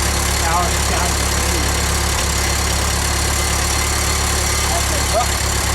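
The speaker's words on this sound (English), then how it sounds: "I'm switching to this tractor instead of the Power Scout" A Ford 2N tractor engine idles steadily and loudly at close range, a continuous low rumble that stays even throughout, with faint incidental noises over it.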